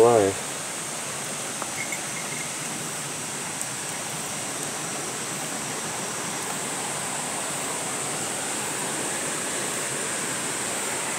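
Water trickles and drips steadily down a wet rock wall, a continuous close-up splashing hiss with a brief voice at the start.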